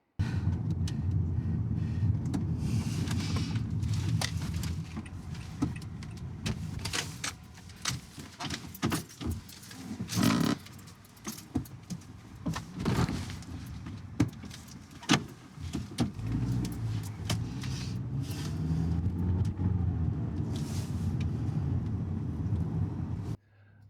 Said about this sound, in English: It's really just the basics of the interior of the car. You've got a little bit of the gear shift